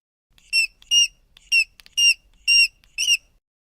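Mouse squeaking: six short, high-pitched squeaks in a quick, fairly even series, close and clear against silence.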